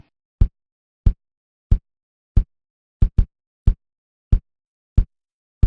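Recorded kick-out and kick-in drum samples sound one at a time at a steady pace, with one quick double hit. Each kick is a short, tight, low thump, isolated and dry against silence.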